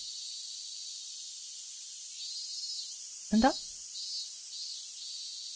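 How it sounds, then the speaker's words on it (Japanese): A steady high, buzzing drone of cicadas runs through a summer seaside town scene in the horror novel game Semi to Umi, with a short spoken exclamation breaking in partway. "今セミの音が聞こえてるから、大丈夫なのか"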